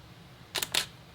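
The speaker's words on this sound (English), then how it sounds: "You can just hear the shutter speed slow down. Chunk, chunk, chunk." A camera shutter fires at a slow shutter speed, giving two crisp mechanical clacks about a quarter second apart, close and loud against a quiet room.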